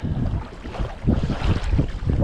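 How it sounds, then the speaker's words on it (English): Strong wind gusts buffet a kayak on Greenbo Lake while one-foot waves slap against the hull, a loud, continuous roar of wind noise with splashing surges building toward the end. "When that wind starts blowing, they're 1 foot waves."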